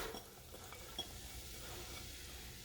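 Onion and celery cooking in a pan, a faint, steady sizzle with a light stirring tap or two, close by, no talk.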